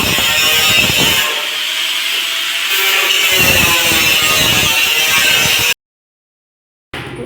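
In a workshop, a power tool cuts through a sheet in loud, continuous grinding bursts, stops briefly, then starts up again.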